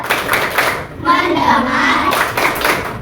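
A primary-school class performs the tepuk konsentrasi, a patterned rhythmic concentration clap: short bursts of hand claps at the start and end, with a voice speaking between them.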